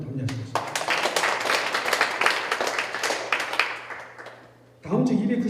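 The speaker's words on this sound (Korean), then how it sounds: "우리 감사의 박수로 담례하시겠습니다" A church congregation at a Korean Monday prayer meeting for peaceful reunification claps in thanks, a dense burst of applause that holds for about four seconds before tapering off and giving way to room sound.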